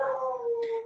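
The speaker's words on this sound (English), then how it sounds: "Stop barking." A pet dog lets out a single short, high-pitched howl lasting about a second, close and fairly loud, with a brief yip near its end; no one speaks.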